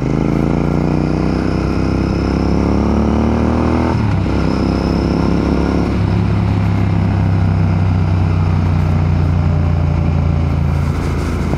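A motorcycle, a Yamaha R15 or Royal Enfield Interceptor 650, roars loudly at speed with a steady engine drone, shifting pitch about a third of the way in as the rider changes gear, with heavy wind rush and no talking.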